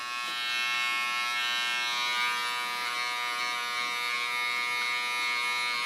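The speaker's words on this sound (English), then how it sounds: "Do a small clipper. Lay the hair aside and take only the woolly hair." Small electric hair clipper trimming woolly hair during a haircut, giving a steady high-pitched buzz held close and continuous with no talking.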